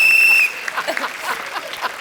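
A coach's whistle gives one sharp, steady high blast lasting about half a second, then cuts off into a studio audience's laughter and light applause on a comedy show stage.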